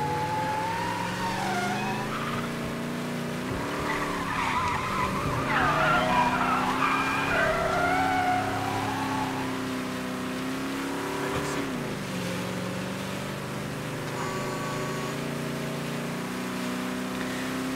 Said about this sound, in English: Now we'll take the convertible.